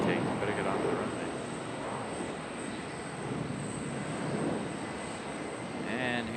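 A Piedmont airliner at Charlotte Douglas International Airport, a steady broad engine roar that swells and holds, with people talking over it and faint tonal whine above.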